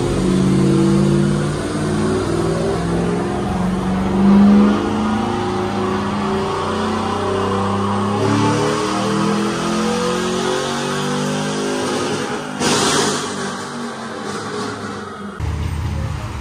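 A Nissan Patrol's engine revs hard and sustained while driving through red sand, a loud, close, continuous roar rising and falling in pitch for many seconds, with a brief sharp burst near the end.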